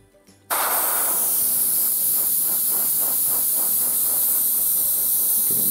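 An airbrush sprays a base coat for faux marble painting, a steady loud hiss that starts abruptly after a brief quiet moment and runs on continuously.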